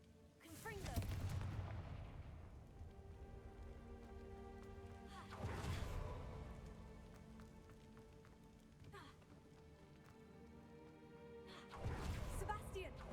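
A Confringo fire spell explosion in the Hogwarts Legacy video game, heard as loud booming bursts that recur three times amid game music and rumbling ambience.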